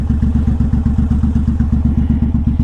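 Suzuki M109R BOSS cruiser motorcycle exhaust thumping in a steady, loud, deep pulsing rhythm, close up with a low rumbling beat and no talk over it.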